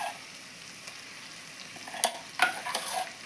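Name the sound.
paste added and stirred into frying capsicum curry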